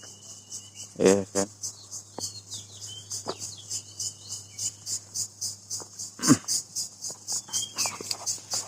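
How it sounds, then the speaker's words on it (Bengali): Birds call and chirp repeatedly in a quiet setting after dawn prayers as the sky brightens, with steady insect-like trilling throughout and a few louder, closer calls standing out. "খুবই সুন্দর খুবই নিস্তব্ধ পাখির ডাক চারিদিকে"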